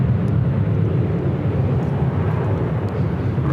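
A jet airliner arriving at LAX, a loud steady engine roar with deep rumble holding throughout, close and unbroken with no talk.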